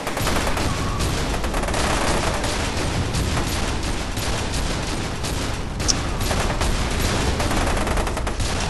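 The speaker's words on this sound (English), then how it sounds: "Who's shooting at me?" Dense, continuous gunfire from the first-person shooter F.E.A.R. 2, a loud, unbroken barrage of overlapping shots with no pauses across the whole stretch.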